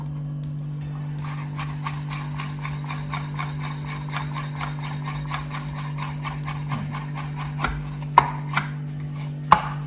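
A knife chops chili on a cutting board in a kitchen, a rapid even run of close taps that slows into a few louder, spaced knocks near the end, over a steady low hum.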